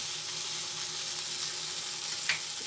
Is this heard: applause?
no